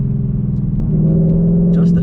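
Deep, steady rumbling exhaust of a Ford Mustang GT fitted with an X-pipe and the resonator removed, the engine note rising briefly in a quick downshift, with a voice speaking over it.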